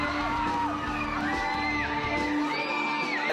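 Screaming girls in a crowd at a concert, high shrill yells and whoops rising and falling over a dense crowd din with a steady tone underneath.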